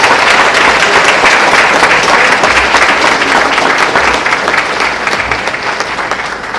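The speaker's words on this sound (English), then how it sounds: "So again, another round of applause." Audience applause at a school co-curricular awards ceremony, a loud, dense and steady wash of many hands clapping that holds at full strength for the whole stretch, with no talk over it.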